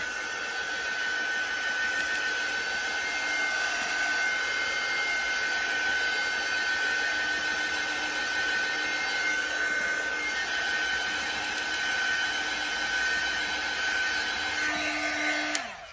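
A hair dryer blows loud and steady at close range while drying freshly painted craft pieces for a cutting-board project, a continuous whooshing drone that cuts off abruptly at the very end.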